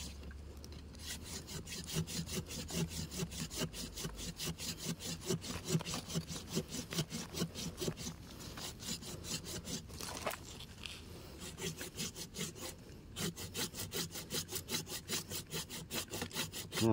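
Steady back-and-forth rasp of a hand saw cutting through wood, regular strokes continuing throughout, close and fairly loud.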